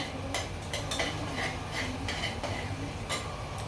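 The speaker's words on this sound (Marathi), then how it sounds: "हे वांगी याच्यात टाकते मी परतू देते जरा" Green brinjal pieces are stirred and sautéed in a pan, with a spoon clinking and scraping against the metal in irregular strokes over a faint background sizzle.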